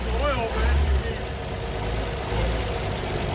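A 1939 Chevrolet Master running after 48 years in a barn, with its carburetor never cleaned, giving a steady low engine chug while people talk nearby.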